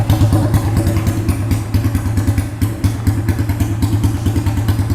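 A chopper motorcycle with a long free-flow exhaust idles in a loud, low, thumping rhythm of uneven pulses, with no talking over it.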